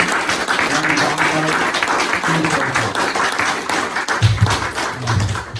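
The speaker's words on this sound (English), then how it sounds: "Once more, a round of applause for all 3 readers." An audience at a literary reading evening applauds three readers, a dense, steady wash of clapping from many hands that holds evenly throughout, with a few louder claps near the end.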